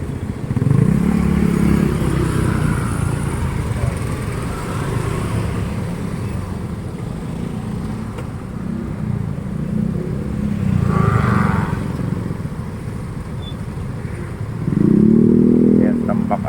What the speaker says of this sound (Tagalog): Yan, tambak ang motor sa ulan.